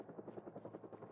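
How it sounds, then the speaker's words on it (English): A helicopter in the video game Project Zomboid beats overhead in a short burst, its rotor thumping in a quick, even rhythm, faint and distant. "Is that a helicopter?"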